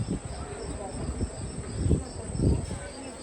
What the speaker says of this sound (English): The cricket chirping is fake though.